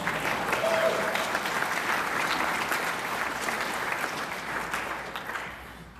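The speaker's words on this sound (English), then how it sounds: "You can applaud that." Sustained applause from a large audience at a DeMolay International Supreme Council installation ceremony, dense steady clapping that fills the hall and tapers slightly toward the end, with no talking over it.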